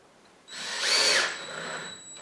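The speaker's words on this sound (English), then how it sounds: "Since these are very light items that are going to go on here, I would just put 3 screws." A power drill drives a screw into an EZStudRack storage rack, one short whirring burst that rises and eases off over about a second, close and alone.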